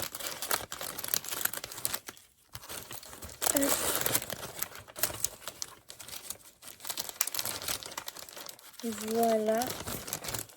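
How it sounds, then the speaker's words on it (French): Paper crumples and rustles in close, repeated bursts while someone tidies up during a craft-supply unboxing, with someone talking over much of it and a brief tonal whistle-like sound near the end. "Excusez-moi pour les bruits de papier."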